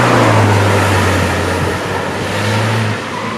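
Ford Focus ST hot hatch, modified with a Mountune MP215 package, driving on the road: a steady, loud engine drone with a low tone that holds, dips slightly, then fades near the end over broadband road and wind noise.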